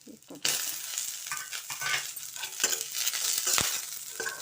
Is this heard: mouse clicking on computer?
no